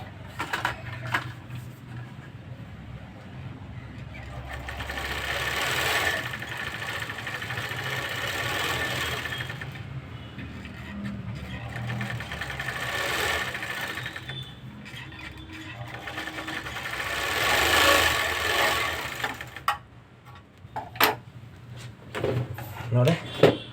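An overlock machine stitching blouse seams runs in bursts, a fast whirring mechanical hum that rises and stops between pauses, heard close under a person talking.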